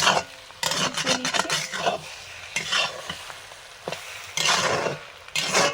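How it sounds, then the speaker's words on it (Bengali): Egg and potatoes sizzle in a pan while a spatula scrapes and stirs in repeated bursts, with short quieter pauses between strokes. "ডিমটা একটু শক্ত হয়ে গেছে মিশিয়ে ভেজে নেব"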